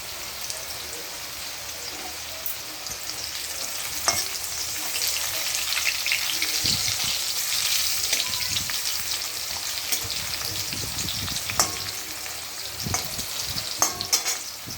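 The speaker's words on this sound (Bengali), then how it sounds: "এদিকে কুমড়ো ভাজা হচ্ছে" Pumpkin slices fry steadily in hot oil, a constant close sizzle with occasional stirring and scraping clicks.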